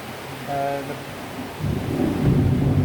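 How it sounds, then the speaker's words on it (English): Thunderstorm outside with a deep rolling rumble of thunder building over steady rain, growing louder toward the end, with a brief tonal hum heard early on. "the thunderstorm's getting a bit bad"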